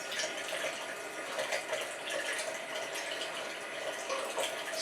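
Tap water running steadily while hands are washed slowly, a soft, even hiss of flowing water at low level with faint splashes, no talking.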